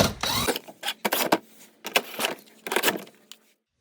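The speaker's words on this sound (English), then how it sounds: "using a 10 mil socket, you're gonna remove the plastic cover on the bottom" Socket wrench working on fasteners while removing the plastic underbody cover beneath a 2024 Toyota Corolla hybrid, giving a run of close, sharp metallic clicks and ratcheting bursts that stop near the end.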